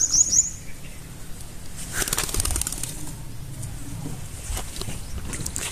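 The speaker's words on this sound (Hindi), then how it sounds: "मेरे चाचे दे कबूतर हैं" Several bursts of pigeons' wings flapping, close by, over a low background rumble and faint shuffling, in a village.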